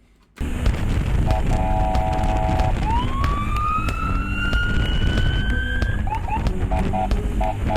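A siren wails steadily over a constant engine rumble, with short electronic beeps before and after the rising tone.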